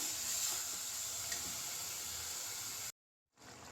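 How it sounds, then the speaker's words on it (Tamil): Ground coconut masala for a potato and green pea kurma bubbles and sizzles in a pan with a soft, steady hissing fry. It cuts to brief silence near the end, then returns faintly. "இப்போ தேங்காய் மசாலா பொருட்களே எல்லாம் நல்லா கொதிச்சு வருது"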